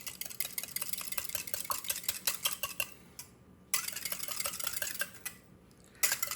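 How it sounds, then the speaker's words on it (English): A spoon stirring food in a pot while cooking, with quick repeated metallic scrapes and clinks in an uneven rhythm, close and fairly quiet, pausing briefly twice. "stir it up"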